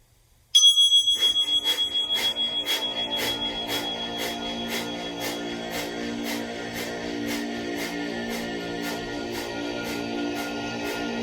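A meditation timer bell from the Insight Timer app strikes once clearly, then rings on in rapid, regular pulses that settle into a steady, sustained chiming with no voices.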